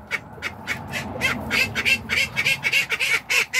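Domestic ducks kept in a backyard flock quack repeatedly in quick, overlapping bursts, loud and close, with no talk over them.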